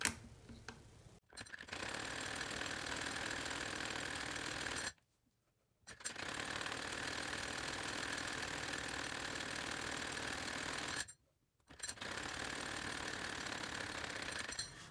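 Sewing machine stitching along the edge of a round kameez sleeve cuff, with a continuous rapid mechanical whir running in long bursts and two short pauses between them, close and steady.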